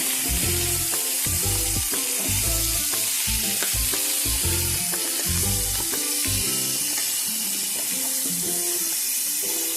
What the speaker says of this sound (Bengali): নুন দিয়ে আবার একটুখানি আমি ভালো করে নাড়িয়ে নেব।